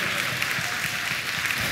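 Audience in a church service clapping steadily and loudly after a hymn, a dense even wash of applause with no gaps.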